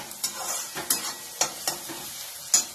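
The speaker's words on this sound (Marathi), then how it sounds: "हे पहा, आता कांदा भाजत आलेला आहे।" Chopped onion frying in a pan for tikhat sanza (upma), a soft continuous sizzle punctuated by several crisp spatula stirs and scrapes at an irregular rhythm, close up and without talking.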